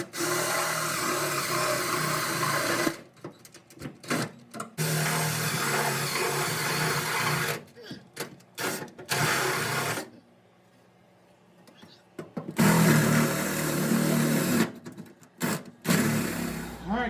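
Power drill boring mounting holes for a new fuel cell on a 1974 Chevy Nova build, running in long sustained bursts with short pauses and one quiet gap, with speech heard between runs.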